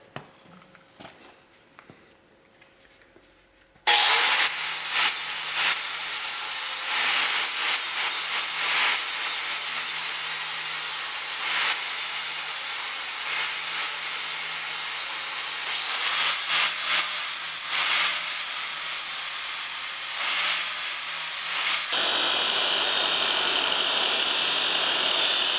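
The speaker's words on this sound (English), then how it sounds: "after a bunch of grinding here, I got this all ready" Angle grinder steadily grinding down a weld on the cracked steering box frame of a 1980 Chevy Silverado, a loud continuous hissing whine starting after a few quiet seconds, running unbroken, then dropping to a thinner spin-down near the end.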